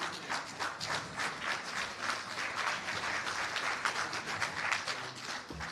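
Audience at a government policy stakeholder consultation workshop clapping, a moderately loud, continuous round of many hands with distinct individual claps that rises and falls slightly and runs the full length.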